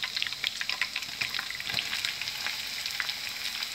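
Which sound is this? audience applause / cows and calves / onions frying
onions frying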